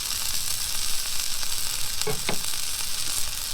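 Ground beef tacos frying on a Blackstone griddle, a steady loud sizzle running throughout, with a couple of brief louder crackles near the middle.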